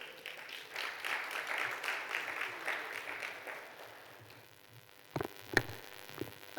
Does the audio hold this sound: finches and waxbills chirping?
no